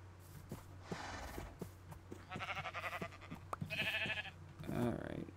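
Minecraft sheep bleat in short wavering calls among clicking footsteps and game noise, faint and mid-distance, with people talking over them.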